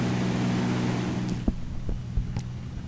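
Aircraft engine heard from inside the cockpit in the X-Plane 12 flight simulator during a flight in Norway: a steady, humming drone with a low tonal whine, followed by a few faint clicks and knocks.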